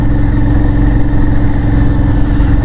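Aprilia Shiver 900 motorcycle engine idling, a loud, close, steady throbbing rumble with strong vibration and no voices.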